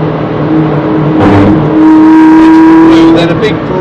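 A race car powering out of a corner on the wet Brands Hatch Indy circuit, its engine note holding a loud, steady droning tone that rises as the throttle opens, heard close from onboard.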